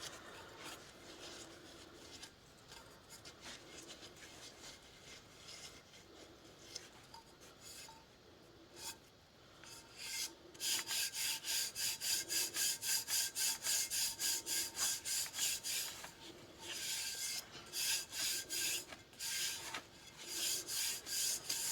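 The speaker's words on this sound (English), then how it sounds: "take your little straight blade, like your little Cricut knife, and kind of just scrape the top here" Small Cricut straight blade scraping the top of a tumbler smooth, starting as quiet, irregular rasping and building into louder rhythmic back-and-forth scrapes in quick repeated strokes, with no talking.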